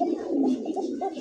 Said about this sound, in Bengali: চমৎকার এক জোড়া কোকা কবুতর, দেখেন এটা ডাক